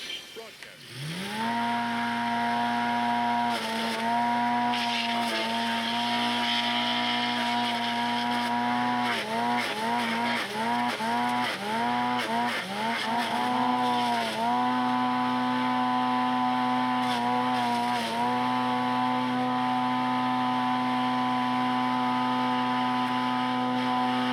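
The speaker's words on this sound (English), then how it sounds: "I'm just going to turn on the wood chipper and get to work." A wood chipper runs at a steady, droning pitch with a strong engine hum, repeatedly dipping and straining as logs are fed in, loud and close for the whole stretch.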